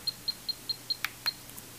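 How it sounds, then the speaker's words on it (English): A moisture meter beeps while reading the water content of a crystal cell: about six short, evenly spaced high beeps, close and clear, with a single click partway through. "You can hear the beeping because it contains a lot more water."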